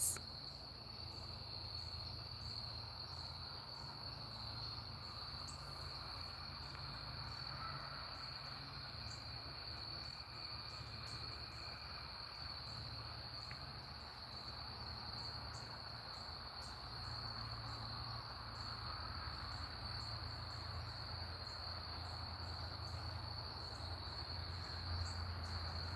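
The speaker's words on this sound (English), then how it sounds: "Do y'all hear the crickets?" Crickets chirp at sunset in a quiet natural setting, a continuous high, evenly pulsing trill that holds steady and faint throughout, over a low background rumble.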